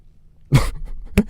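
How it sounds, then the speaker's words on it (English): A character on a stretcher in a GTA roleplay game lets out a short cough burst, then a second, briefer cough about half a second later, close and clear with no talk. "He's on a stretcher. Is he coughing?"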